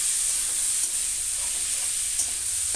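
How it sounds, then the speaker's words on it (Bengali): Fried moong dal being stirred in a cooking pot for bhuna khichuri, a steady sizzle with a soft hiss and faint scraping throughout, close and continuous. "এবারে ভেজে রাখা মুগ ডালটাও দিয়ে দেব। দিয়ে সুন্দর করে নাড়াচাড়া করে নেব।"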